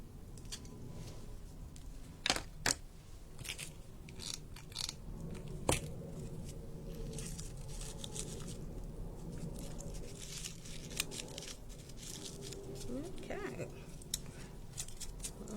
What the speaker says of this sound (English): Let's just chop that down with a pair of scissors.